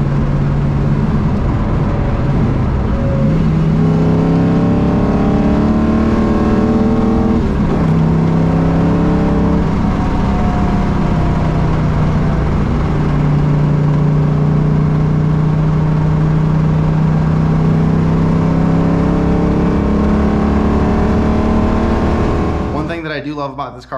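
A barn-find Fox-body Ford Mustang with a camshaft on a stock long block and a custom-made exhaust drones steadily while driving. The engine pitch rises and falls with the throttle throughout, heard from inside the car.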